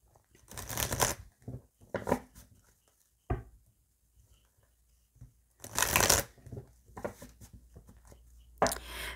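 Oracle cards being shuffled by hand, several separate bursts of riffling and sliding cards with quiet gaps between, close and crisp.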